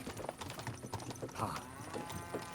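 Horses' hooves clip-clopping in Kingdom Come Deliverance 2, a steady trotting rhythm of soft thuds mixed with rattling and rumbling game ambience, close and moderately loud.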